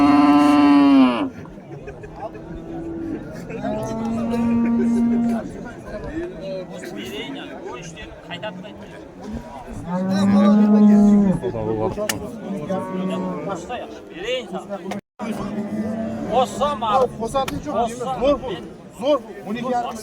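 At a busy livestock market in Shymbay, cattle give several drawn-out moos near the start and middle while people talk and chatter throughout.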